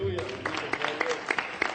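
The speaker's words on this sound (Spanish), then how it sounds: "¿Cuánto dan un aplauso al Señor?" A church congregation breaks into scattered applause, uneven individual claps rising after a short opening voice, fairly close and moderately loud.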